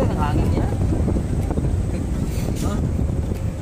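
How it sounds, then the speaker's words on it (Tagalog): Steady, heavy wind buffeting the microphone, a continuous low roar with a voice faintly audible underneath. "Ayan, ang hangin niya."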